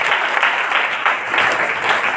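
Light applause from a church congregation, a steady soft patter of many hands clapping throughout without a break, with no talk over it.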